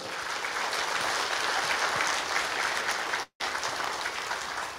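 Audience applause fills a motivational speaking event, a dense, steady wash of clapping at close range with a brief cut to silence partway through before the clapping resumes at the same level.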